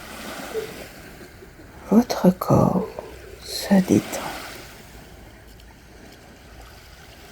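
Calm sea waves wash in softly, swelling twice to gentle splashes and then receding, while a soothing voice speaks quietly over them.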